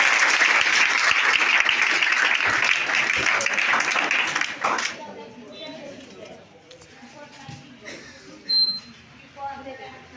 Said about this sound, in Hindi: तालियों के साथ स्वागत किया है